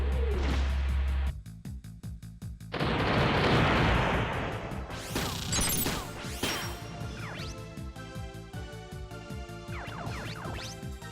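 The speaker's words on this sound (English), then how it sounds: "they're crowded up so I can hit all 4 of them with a grenade" A grenade blast in the mecha game Front Mission 3 erupts as a loud, roaring burst of noise, followed by crashing impacts and clanking metallic game effects with music underneath.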